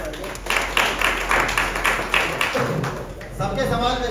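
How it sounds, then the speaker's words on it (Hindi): An audience claps at a celebration marking three years of a bike repair service, with steady applause running under someone talking over it. "हाँ, वही जबरदस्त तालियां।"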